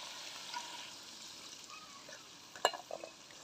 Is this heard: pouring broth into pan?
yes